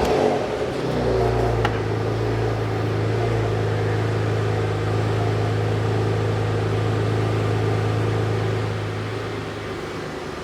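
A Porsche Macan's engine cranks and catches, then settles into a steady low idle hum that continues for several seconds, close by.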